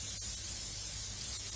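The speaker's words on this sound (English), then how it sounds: "I've literally just got some canola spray oil" A continuous hissing spray, close and steady, from an aerosol can of canola cooking oil for over a second.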